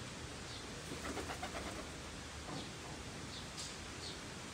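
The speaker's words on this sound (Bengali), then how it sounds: "এটা হলো আমার কবুতরের ঘর" Pigeons coo softly inside a pigeon house, a few faint, low calls over quiet background hiss with light rustling.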